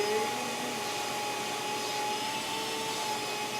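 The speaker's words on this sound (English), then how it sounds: "Bring your dog over and start a vacuum." A vacuum cleaner drones steadily and loudly throughout while a dog is being cleaned, a constant whooshing motor roar with a faint whine and no breaks.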